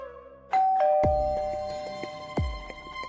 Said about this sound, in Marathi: बेल वाजली